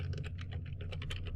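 Fast, steady keystrokes on a computer keyboard, close and clear over a low steady hum, with no voices.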